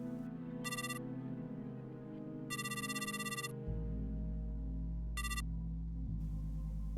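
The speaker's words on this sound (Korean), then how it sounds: "집 전화로 내 휴대폰에 전화를 걸고 수화기에 귀를 기울였다." A landline receiver carries the ringback tone of a call placed to a mobile phone: short, faint tone bursts repeat at intervals over a low, steady background drone.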